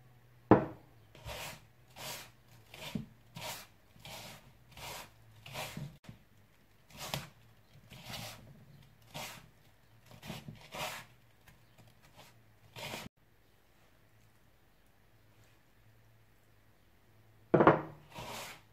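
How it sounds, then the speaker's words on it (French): Hands gather moistened semolina dough with orange blossom water, without kneading, giving a series of short rubbing, grainy scrapes in quick, fairly regular strokes, close up, then a pause and a final pair of louder scrapes. "Et là donc nous allons essayer de ramasser la semoule sans la pétrir"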